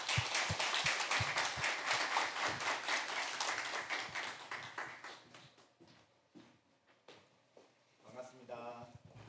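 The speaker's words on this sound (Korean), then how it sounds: "all welcome with a round of applause." Church congregation applauding at a Korean Wednesday worship service, dense clapping that fades over several seconds into quieter room sound, with a voice starting up near the end.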